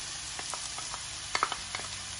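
Squeezed mushrooms with garlic and rosemary sauté in a pan, giving a steady soft sizzle broken by scattered crackles and light stirring clicks, with no talking.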